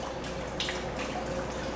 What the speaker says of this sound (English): as you can hear, a bunch of coolant is pouring out.